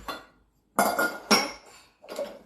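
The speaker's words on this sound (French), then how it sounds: "on continue de bien mélanger pour pas avoir de grumeaux" Metal utensil scraping and clinking against a pot as cream is stirred over heat for a coffee-chocolate entremet, in three short bursts separated by brief pauses.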